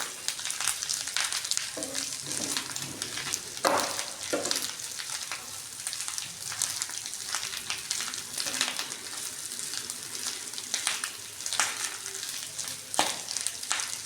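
Fish roe frying with chili powder and turmeric in a pan, a continuous close sizzle broken by repeated scraping stirs at irregular intervals, with no talking.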